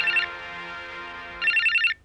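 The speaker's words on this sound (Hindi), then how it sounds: "भंडारी, देखना किसका फोन" A telephone rings indoors in a Hindi crime drama scene, two electronic ringing bursts at the start and end with a quiet gap between, fairly loud and alone.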